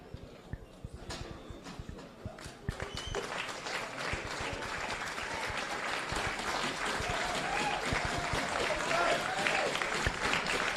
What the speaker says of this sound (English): Home fans giving Santic a warm round of applause here